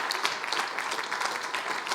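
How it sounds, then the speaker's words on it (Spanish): Audience applause inside a church, a steady wash of many hands clapping at moderate volume throughout, with no break. "Si esos aplausos son para el Señor, déselos fuertes."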